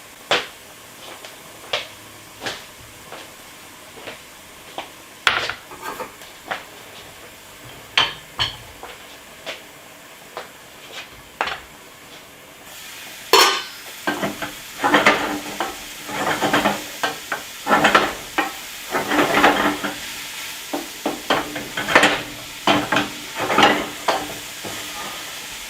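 Pot pie filling with cilantro leaves stirred in a pan over lower heat: repeated scraping strokes of a utensil against the pan, then a louder sizzling, crackling stretch with steady rhythmic stirring, close and clear with no talking.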